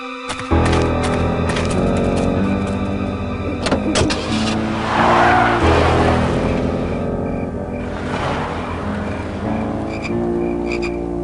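A car in the PC adventure game Full Throttle drives off, its engine rumbling loudly and rising in surges with layered game sound effects over about eleven seconds, no talking.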